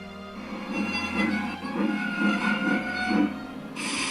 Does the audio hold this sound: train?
yes